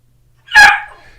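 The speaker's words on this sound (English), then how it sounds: "I got to let the dog out" A dog gives a single loud, sharp bark close by, with a short ringing tail as it fades into silence.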